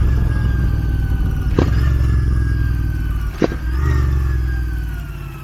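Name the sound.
car engine revving during rev match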